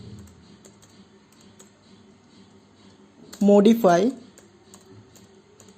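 Faint, scattered clicks on a computer keyboard as a MySQL command is typed, with a short spoken word cutting in midway.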